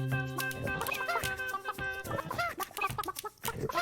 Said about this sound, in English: Worrying the chickens.